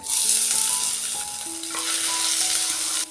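Finely chopped garlic and ginger sizzle steadily in hot oil for a Kerala-style chickpea curry, a loud, close, continuous frying hiss with faint tonal hum underneath and no talking.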